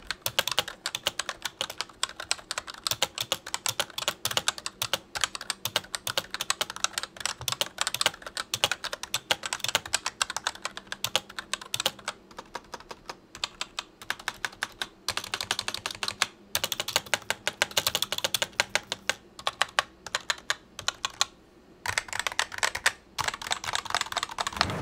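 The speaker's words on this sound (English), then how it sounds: "Like I said, the key switch sound is pretty interesting." Continuous fast typing on an MSI Vigor gravity-style mechanical-membrane keyboard, dense close key clicks and clacks running steadily with brief pauses, no talking.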